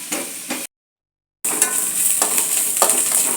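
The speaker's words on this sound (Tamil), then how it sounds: "இந்த தேங்காய் இப்படி வறுத்துட்டே இருக்கலாம். இதை இந்த பக்கம் இதையும் வதக்கிக்கலாம்." Coconut and onion frying in a pan for potato gravy, a steady sizzle with scraping stir strokes, broken by a short silent gap midway before the frying resumes.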